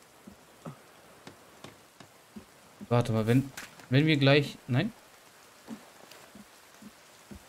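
Rain hisses softly in the survival game The Forest alongside scattered ticking drops, continuing under a man's brief speech in the middle and carrying on quietly before and after.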